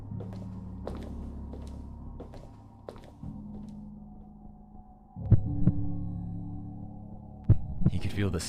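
Heartbeat sound effect: a slow, steady, deep throbbing pulse over a low droning hum, growing louder and heavier partway through, with no voices.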